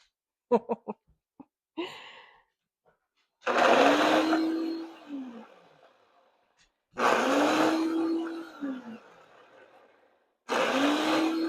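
A blender roars in three loud bursts, each winding down with a falling whine, separated by short pauses and a few faint clicks at the start.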